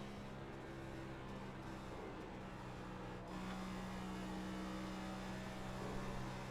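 A race car in the iRacing sim runs at full throttle with a faint, steady engine drone that steps up in pitch after a gear change and then holds a sustained high whine, with no talking.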